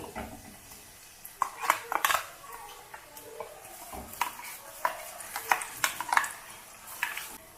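Masala paste fries in oil in a pan while a spoon stirs it, making repeated scraping and clanking strokes of metal on the pan over a soft background sizzle.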